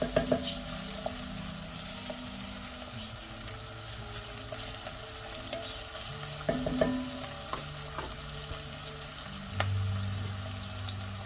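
Onion and green apple frying in a pot for butternut squash soup, a soft, steady sizzle with scattered clicks and occasional clunks of stirring, faint and close, with low hum underneath.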